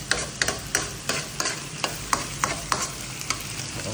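Onions sauté in a pan for goto pares with a close, steady sizzle under rhythmic scrapes and clacks of a spatula stirring about three times a second, with no voices.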